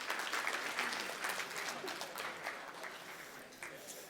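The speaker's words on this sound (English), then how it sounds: "Give yourself a round of applause." An audience at a team talk applauds steadily for about four seconds, a dense, even wash of many hands clapping that holds at a moderate level before easing slightly.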